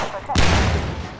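A sudden heavy blast erupts in a video game, a loud booming burst with rumbling debris that fades over a second, near and full.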